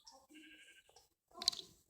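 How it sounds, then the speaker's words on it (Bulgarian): A sheep bleats in a video game, a short wavering bleat followed after a pause by a louder, sharper one, fairly close with a quiet background. "там има овца"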